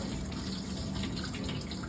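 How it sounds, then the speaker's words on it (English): Water gushes steadily out of a container while clear ice is being made, a continuous close, moderately loud flow with a faint gurgle of air drawn back inside. "You hear the air sucking up into it and the water come out."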